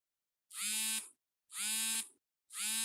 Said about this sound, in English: Is that my alarm going off?